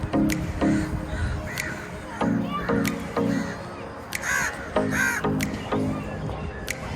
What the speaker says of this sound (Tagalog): Ang dami uwak dito, no?